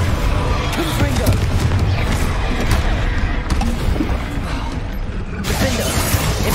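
Spell explosions from Confringo and Bombarda burst repeatedly in Hogwarts Legacy combat, loud booming blasts and crashes stacked densely over a rumbling background while voices shout in the game.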